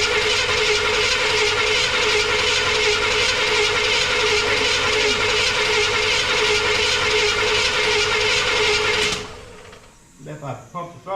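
Engine cranking over steadily for about nine seconds on a vehicle with a fuel delivery problem, a loud continuous churning drone close by, then it cuts off abruptly into near quiet.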